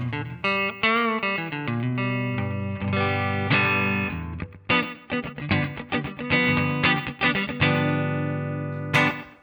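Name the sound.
electric guitar clean patch with reverb on Valeton GP-5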